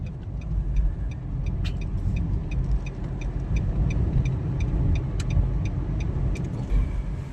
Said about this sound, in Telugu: ట్రాఫిక్ ఫుల్ ఉన్నది ఈడ.